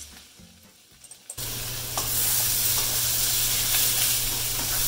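Ratatouille vegetables with zucchini hit a hot pan and sizzle loudly and steadily, a sharp jump into broad hissing frying after a quiet start, continuing close and uninterrupted.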